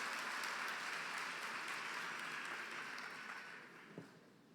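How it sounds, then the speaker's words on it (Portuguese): Congregation applauding during a church women's congress service, a dense sustained clapping that gradually tapers off toward the end. "Se ajeita aí, aplaude melhor, porque para Jesus Ele é bom"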